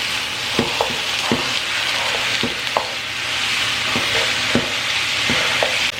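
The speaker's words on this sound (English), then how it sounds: "My skillet is warmed up. And we're going to brown the ground beef." Ground beef browns in a warmed skillet with a constant close sizzle. A spatula scrapes and taps the pan every second or so.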